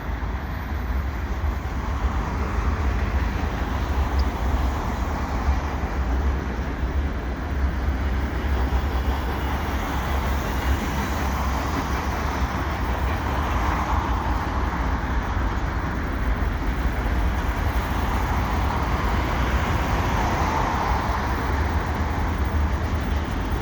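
A CN mixed freight train with a GP9RM locomotive and auto racks rolls past a Highway 20 crossing in winter, a steady, loud, continuous rumble and rail noise that holds throughout without pause.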